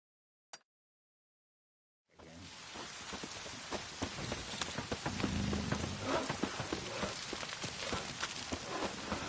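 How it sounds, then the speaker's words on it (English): Steady rain falls in the open world of The Witcher 3: Wild Hunt, a dense hiss of drops on surfaces that begins after a short silence and a single tap, then continues loud and even throughout. "Rain's back again."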